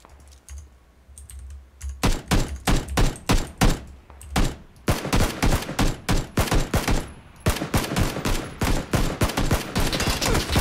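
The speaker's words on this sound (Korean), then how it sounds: "옆에서 쏜다" Gunfire in PUBG, a long run of sharp rapid shots in quick regular bursts, loud and close, continuing almost without a break.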